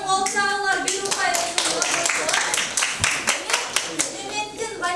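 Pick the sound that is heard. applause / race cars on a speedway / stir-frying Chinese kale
applause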